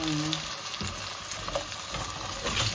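Potatoes sizzle steadily in a hot pan while being stirred during adobo cooking, with continuous frying hiss and occasional scrapes.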